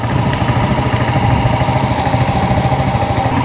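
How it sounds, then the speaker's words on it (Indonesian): A WMOTO Gemma 125cc scooter from 2023 idles steadily at its exhaust, with a low, even, pulsing putter that runs close and constant throughout and has no talk over it. "Okay, kita dengar bahagian exhaust pula."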